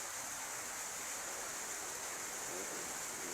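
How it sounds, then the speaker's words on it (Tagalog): A stone dropped into a glass of water fizzes strongly, giving a steady, dense hiss of bubbling that holds at an even level throughout, close and continuous. "Bakit ang lakas bumubula sa lagay sa baso ng mayroong tubig."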